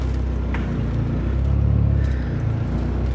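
A turbocharged PT Cruiser GT engine hums low and steady from inside the car as it pulls through the gears, a rumbling drone with a slight swell midway and no talking.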